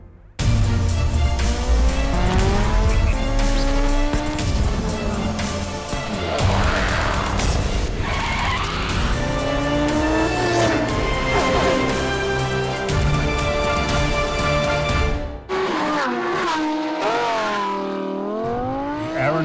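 A Lamborghini Huracán supercar drives hard with a loud, continuous engine roar rising and falling through revs, tires squealing at points, sustained throughout with no talk.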